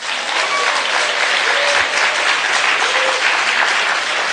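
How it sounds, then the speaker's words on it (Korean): Congregation applauding at a church service, loud continuous clapping that fills the room evenly and holds at a steady level from start to finish. "한번 스스로 박수를 쳐야죠"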